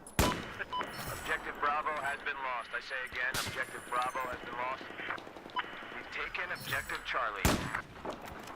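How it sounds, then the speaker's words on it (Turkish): Battlefield 4 gunfire in a Chinese park map with snipers: three sharp cracks ring out, bullets striking metal among them, while someone talks excitedly over nearly the whole stretch. "demire çarpıyor mermi"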